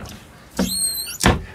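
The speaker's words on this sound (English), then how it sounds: "Double door wardrobe." A double door wardrobe inside a travel trailer opens with two loud, close clunks and rattles about half a second apart, while a faint squeak runs between them.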